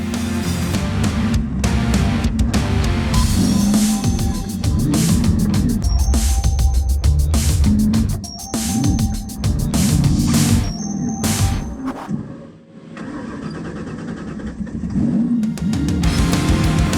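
An off-road racing vehicle's engine roars loudly on a mountain course, revving up and down through repeated bursts of acceleration, close, with brief dips before climbing again.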